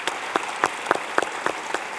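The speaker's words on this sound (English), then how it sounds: "Let's give them a big round of applause." Applause from a university lecture audience at the end of a talk: a steady run of distinct, evenly spaced claps, moderately close, with no voices over them.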